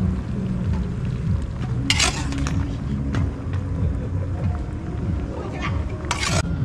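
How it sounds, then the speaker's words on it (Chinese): Stir-frying in a wok for a spicy mala xiangguo, cooked on a cold winter evening: a steady frying hiss with stirring, two sharp bright scrapes of the spatula against the pan, and voices talking over it. "炒菜了，炒菜喽！"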